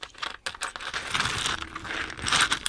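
About ten coins recovered while metal detecting on East Beach, Nairn, Scotland, clink and jingle together as they are handled, in quick irregular metallic taps and rattles without talk.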